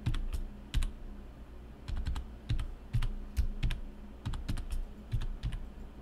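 A password is typed on a computer keyboard during a Debian Linux installation: a quiet, close sequence of separate key clicks arriving in short irregular bursts, with brief pauses between them.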